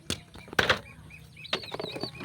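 Pigeons flap their wings in a few short, near fluttering bursts, with faint chirps and bird calls between them.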